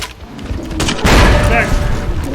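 Gunfire booms and thuds in Fallout: New Vegas, played in hardcore mode, a burst of loud shots and impacts rising sharply about a second in, with a voice shouting over the game audio.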